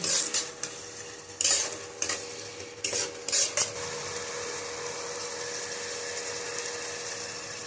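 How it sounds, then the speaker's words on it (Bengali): Fried vegetables for mixed fried rice stirred in a pan over a high flame: a few sharp clattering scrapes of a spatula against the metal in the first four seconds, then a steady sizzle alone, close by. "আমার ফ্লেমটা কিন্তু হাইতেই রাখা আছে। এবার আমি এটাকে নেড়ে চেড়ে নেব।"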